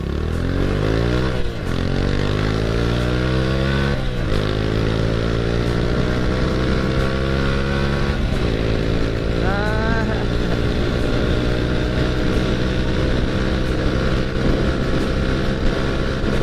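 A Honda Astrea Grand motorcycle fitted with a Karisma carburetor revs loudly and continuously, its engine pitch rising and falling in several surges over a steady roar.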